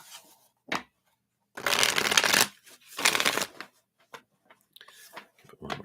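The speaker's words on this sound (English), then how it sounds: "Give it one more shuffle here." A deck of playing cards is shuffled up close in several quick riffling bursts, with crisp flutters separated by short pauses and light taps.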